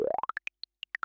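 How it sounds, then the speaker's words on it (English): A distorted synth plays quick plucky notes that climb rapidly in pitch, then slows into spaced, gritty bleeps that rise and fall again. "Now I'm going to add a little bit of distortion."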